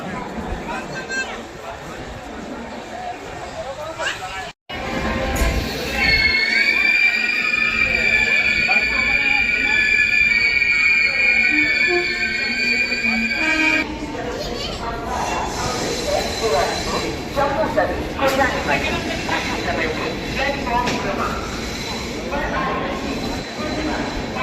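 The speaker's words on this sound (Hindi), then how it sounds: "और पीछे से आ चुकी है अपनी संबलपुर जम्मू तवी एक्सप्रेस भी।" Sambalpur–Jammu Tawi Express passing near Tundla: a sustained rumble of rolling wheels with a long high-pitched squeal and hiss, loud and close, with talk over it.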